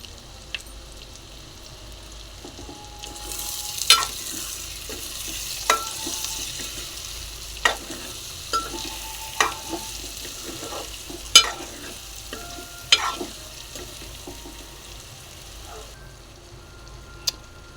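Boiled egg fry curry being stirred in a pan over low sizzling, with a dozen sharp spatula scrapes and taps spaced a second or two apart, close and clear with no talking.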